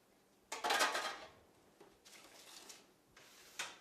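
A metal cookie sheet clatters and scrapes in a home kitchen, with three separate bursts of handling noise, the first loudest, heard close with no talking.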